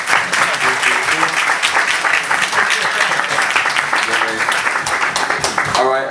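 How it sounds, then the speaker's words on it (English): A crowd at an industry networking panel event claps for a speaker: steady, dense applause fills the whole stretch while voices talk over it. "Everyone, round of applause for Major."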